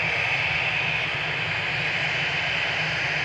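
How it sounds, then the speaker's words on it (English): Airliner on its departure roll from runway 23 left at Manchester Airport, a steady, loud broadband jet engine roar that holds constant throughout without voices. "First departure though on 23 left today."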